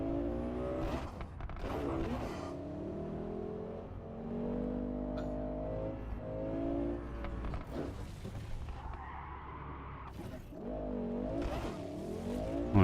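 A car engine drones steadily from inside the cabin in Cyberpunk 2077, rising and falling as it revs, with brief bursts of other noise layered on top.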